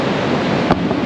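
Pacific surf washing up on a cold redwood-coast beach, a steady broadband wash of water with a brief louder surge as a wave rolls in, close and continuous.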